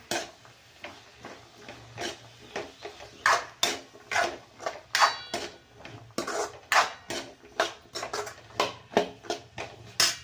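Potatoes and peas are stir-fried in a pan, with a spatula scraping and knocking against the metal in quick, rhythmic strokes, each one a distinct close scrape.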